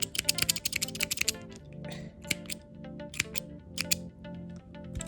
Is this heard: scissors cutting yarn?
yes